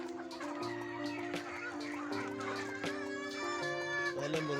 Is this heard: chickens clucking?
yes